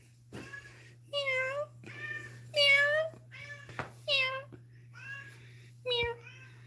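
A pet cat meows repeatedly at close range, several distinct drawn-out cries spaced across the stretch over a steady low electrical hum, with no talking.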